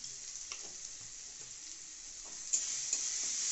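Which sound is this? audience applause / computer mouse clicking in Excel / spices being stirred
spices being stirred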